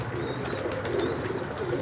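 Soft, low pigeon coos from a racing pigeon loft in old Jammu city, murmuring steadily and fairly close, with a few thin bird chirps above and no talking.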